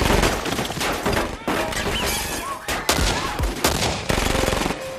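Rapid bursts of gunfire trade back and forth in an action film scene as police surround a hotel, loud, close shots and volleys stacking over one another with crashes and debris throughout.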